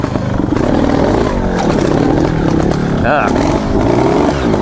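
A trials motorcycle engine revs loudly and steadily close by, with a sharp throttle blip near the three-second mark standing out from the continuous engine drone.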